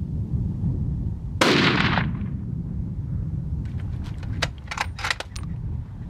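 A single sharp rifle shot cracks out during a gemsbok hunt in Namibia, loud and sudden with a short decaying echo, followed by faint scattered clicks and rustles over low outdoor rumble.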